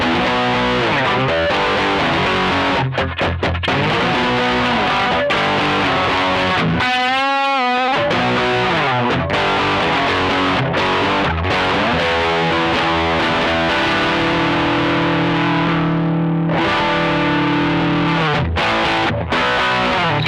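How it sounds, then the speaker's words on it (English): Electric guitar played through a Boss OD200 pedal set to its Rat distortion mode, giving heavy, saturated chords and sustained notes that ring loud and steady, with a brief pause and a few choppy strums along the way. "Yeah, convincing rat sound."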